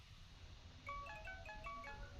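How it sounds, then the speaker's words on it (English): A phone ringtone plays faintly: a short repeating melody of bright electronic beeps over a low background hum, with no talking. "Why do you have a creepy ringtone?"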